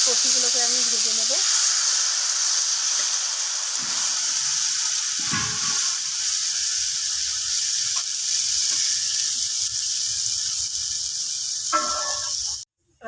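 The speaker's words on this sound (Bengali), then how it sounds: "এবার বাকি কপিগুলোকে আমি ভেজে নেব।" Cabbage fries in a pan with a continuous bright hiss and sizzle of hot oil, close and steady. A few clatters of utensils break in near the start and near the end.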